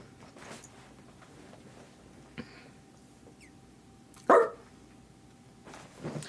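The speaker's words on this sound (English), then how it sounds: "that's what a zebra sounds like" Zebra barking call: one sharp, loud yelp-like bark stands out near the middle, with a softer call at the end, over quiet background.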